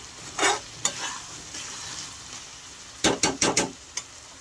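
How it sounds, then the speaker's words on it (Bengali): Sugar being stirred into Malabar spinach chachchari in a pan: a soft simmering sizzle beneath a few sharp spoon scrapes and taps, with a quick cluster of knocks near the end. "চিনিটাকে আমি ভালো করে চচ্চড়ির মধ্যে মিশিয়ে নিচ্ছি।"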